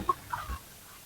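Native chickens tied up outdoors give a few short, soft clucks close by over a quiet background in a brief moment.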